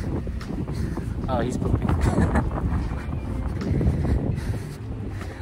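Gusty outdoor wind buffets the microphone in rough, rumbling bursts, loud and close, while a person talks over it.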